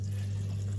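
A water curtain runs across a Gaahleri AF720 airbrush booth with its extractor switched on, giving a steady, close rush of flowing water over a constant low mechanical hum, with no voices.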